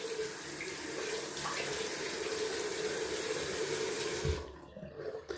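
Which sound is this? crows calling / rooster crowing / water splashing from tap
water splashing from tap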